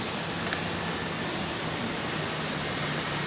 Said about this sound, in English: Is that a Fokker I can hear?